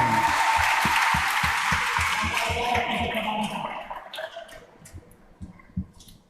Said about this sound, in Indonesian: Tepuk tangan untuk kedua anak ini penerimaan piagam.